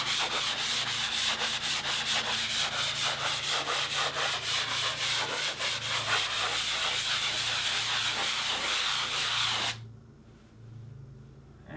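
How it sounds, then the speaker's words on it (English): Light hand sanding over a painted surface during a paint-matching repair: steady, close, continuous scratchy rubbing strokes in quick rhythm for most of the span, then stopping abruptly near the end, leaving quiet room tone. "just give it a light sanding"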